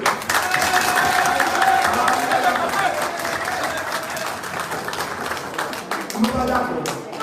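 Audience at a political rally applauding steadily, dense clapping and crowd noise filling the whole stretch, fading slightly toward the end.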